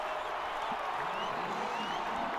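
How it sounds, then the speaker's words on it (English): A large crowd of Brazilian football fans roars steadily in a stadium, a broad, distant wash of cheering and clapping that holds at one level, with a commentator talking over it. "Give the Brazilian fans something to cheer about."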